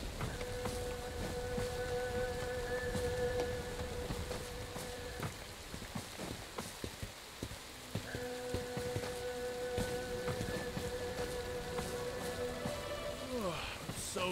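Rain in the video game Bright Memory Infinite, a steady patter of drops across surfaces with scattered heavier splashes, while sustained electronic tones and whooshes drift over it.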